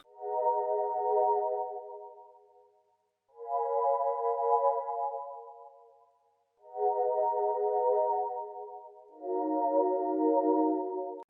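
Four long, slow synth pad chords swell and fade one after another, warm and ambient with no voices.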